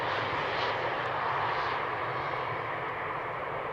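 A mostly silver SkyTeam-liveried airliner landing on runway 18R at Amsterdam Schiphol, heard as a steady, continuous broadband engine roar held at moderate distance, with no talk.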